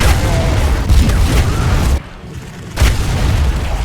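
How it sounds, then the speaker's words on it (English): Loud, heavy booming blasts from a triple-barrel shotgun firing all three shells at once in the video game Supplice rumble in close succession, broken by a short quieter gap before another burst hits. "the alt fire lets rip all 3 shells at once"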